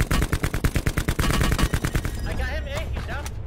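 Automatic gunfire in the Black Ops 4 Blackout battle royale game, a rapid loud burst of repeated shots lasting about two seconds, followed by voices talking.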